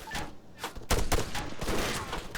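Bursts of video game gunfire, with several loud, quick shots clustered across a couple of seconds and a heavy report near the middle.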